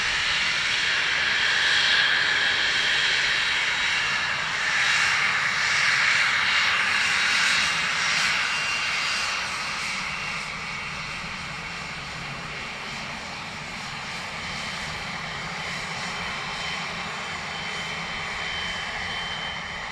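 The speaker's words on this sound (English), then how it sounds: "Aer Lingus from Lisbon, next to land." An Aer Lingus airliner arriving from Lisbon comes in to land at Dublin Airport, its engines a broad steady roar with jet hiss that swells early, then eases slightly and holds throughout, heard alone without talk.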